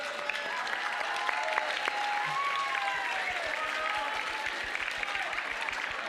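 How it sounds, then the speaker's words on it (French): Audience applause filling a French science talk venue, steady dense clapping from a sizable crowd, sustained throughout without pauses. "Vous pouvez vous applaudir"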